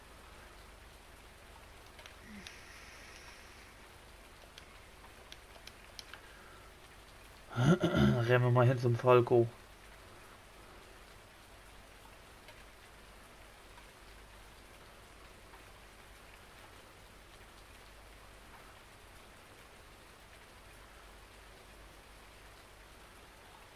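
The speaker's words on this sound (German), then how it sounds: "Mit dem Regen, das würde auch nicht besser werden, oder?" Rain falls steadily in the Real Farming video game, a soft, continuous hiss that runs throughout, with someone talking briefly partway through.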